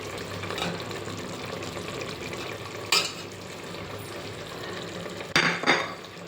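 A spoon stirs chicken masala with chili powder, turmeric, salt and garam masala in a pan, giving a continuous scraping and sizzling texture with a few louder clanks near the middle and end.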